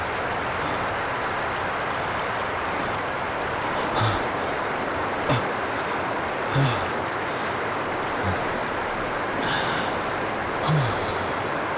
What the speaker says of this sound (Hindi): यार ये झरना तो बहुत डरावना।